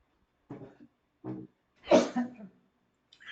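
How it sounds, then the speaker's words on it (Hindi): A teacher coughs several times in a quiet room: two short dry coughs, then a louder, harsher hacking burst with a throaty tail, close to the microphone and with no talk. "थोड़ा सा खांसी हो गया है"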